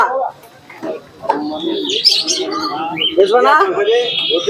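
Sirazi pigeons coo and chirp at the Santipur bird market, soft close calls mixing with other birds' tweets and nearby voices.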